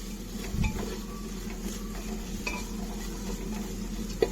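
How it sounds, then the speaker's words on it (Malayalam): Onions sauté in a pan with a low, continuous sizzle under an even background hum. Occasional spatula scrapes and clicks break through, and nobody talks. "ഇനി അതുപോലെ ഇടയ്ക്കിടയ്ക്ക് ഈ സവാളയും ഒന്ന് വഴറ്റി കൊടുക്കണം"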